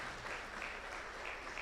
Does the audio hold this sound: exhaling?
no